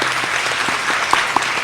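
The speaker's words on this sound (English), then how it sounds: "A big round of applause for Riya." A short, close burst of applause from the audience at a Bharatanatyam arangetram dance recital, with brisk clapping at a steady level and a few sharper individual claps standing out.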